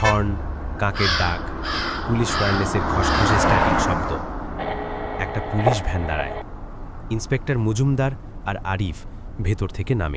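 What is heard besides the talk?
crow cawing, audio drama sound effect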